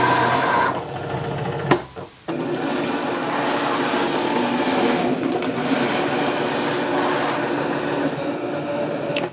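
A Cricut Explore 4 cutting machine hums and whirs continuously as it loads mats, a steady mechanical drone with a brief click and dip early on before the motor noise resumes evenly.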